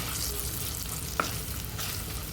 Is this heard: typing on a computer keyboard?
no